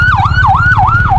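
A loud ambulance siren wails close by on a road toward Mysore, rising and falling in a rapid, regular cycle over a low engine rumble.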